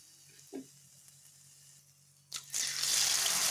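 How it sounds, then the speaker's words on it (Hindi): Onion pakoras dropped into hot oil, where a quiet stretch with a small thud gives way to a sudden, loud, steady sizzle of frying that continues to the end. "अब हम बाकी पकोड़े भी ऐसे ही फ्राई करेंगे, एक एक करके डालेंगे"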